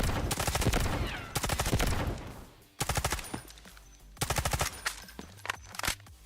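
Automatic gunfire in the Delta Force Mobile game, several loud rapid bursts of shots fired close up, separated by brief pauses, with no talk.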